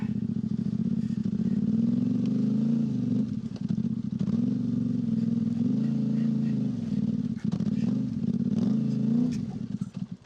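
An off-road motorcycle ridden in second gear without the clutch, its engine droning loudly with repeated rises and dips in revs as it climbs rough terrain, with talk over it.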